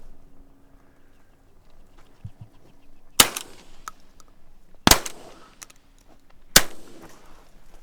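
Three sharp gunshots fired while hunting with family in the countryside, spaced a couple of seconds apart, each a loud crack with a short echoing tail over a quiet outdoor background.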